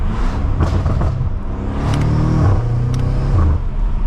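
An 800 hp BMW F90 M5 revs sharply during downshifts on a backroad, its loud engine blipping and stepping through rising and falling pitches over a constant rumble, heard close from inside.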